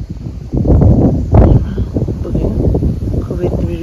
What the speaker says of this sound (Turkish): Rüzgarla sıcaklık geri döndü.